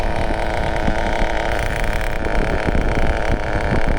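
A nitro-powered Associated TC3 RC touring car, built for drag racing, idles steadily and close by with a continuous buzzy engine drone, its idle set a bit too low.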